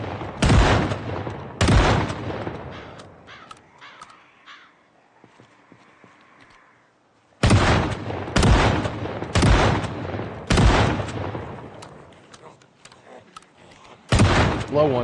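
Shotgun blasts in Project Zomboid, a zombie survival game: about seven loud, sharp booms with decaying tails, two close together at the start, then a pause, then a quicker run of four, and one final shot.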